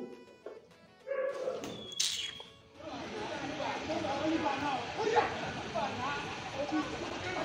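Dogs bark and yip in short bursts early on, then a busy outdoor din with voices carries on beneath and around them.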